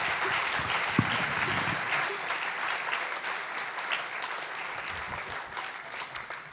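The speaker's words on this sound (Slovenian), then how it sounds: "Pol pa en aplavz za naše 3 fante." Sustained audience applause at a medical chamber award ceremony in Slovenia, a dense steady clapping from a large crowd lasting throughout with no speech over it.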